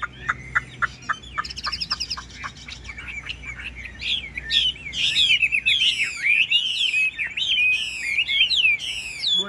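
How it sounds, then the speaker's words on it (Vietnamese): A caged Chinese hwamei songbird sings loudly and close, starting with a run of repeated sharp notes and building into rich, fast, varied whistled phrases. "Một em họa mi gọi là hiếm có luôn anh em nhá."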